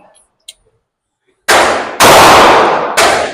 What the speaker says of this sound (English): shooting real good with this gun, even though it doesn't love the full metal jacket.